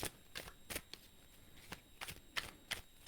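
Tarot cards being shuffled close by, with quiet irregular riffling snaps and flicks repeating across a few seconds.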